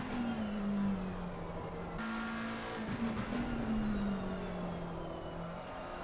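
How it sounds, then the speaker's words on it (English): Porsche and Ferrari GT3 race cars lapping at Zolder in the racing game ACC, a steady droning engine note holding high revs with gear changes and shifting pitch, loud and continuous. "the Porsche is trying to hone in on the Ferrari in front"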